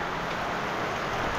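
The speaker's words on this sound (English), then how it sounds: "it's raining quite a lot now." Heavy rain pouring down in a village, a steady broadband hiss of falling water that stays even and continuous, filling the surroundings with no voices.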